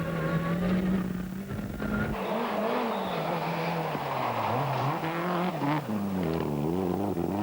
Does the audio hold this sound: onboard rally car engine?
yes